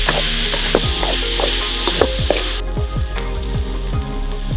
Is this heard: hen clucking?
no